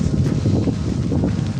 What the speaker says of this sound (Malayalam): നല്ല കാറ്റ് ഗൈസ്.